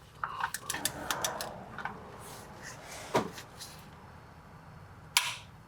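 Sharp metallic clicks ring out from a torque wrench set to 30 foot-pounds while a drain plug is tightened during an oil change on a 5th-generation Toyota 4Runner, with a cluster of quick clicks early, then single distinct snaps later, close and fairly faint.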